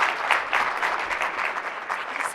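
An audience applauds steadily to welcome presenters at a workplace talk: a dense, even clatter of many hands clapping, with no voices over it.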